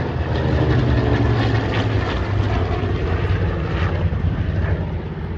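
A WWII fighter-bomber warbird at an airshow in Tyabb, with a loud, close, continuous piston propeller engine roar and throbbing drone holding steady throughout, no voices over it.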